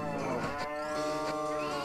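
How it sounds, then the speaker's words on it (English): A cow moos in the Story of Seasons: Trio of Towns farming game, one long drawn-out call lasting nearly two seconds, close and clear with no talk over it. "Come here, cow!"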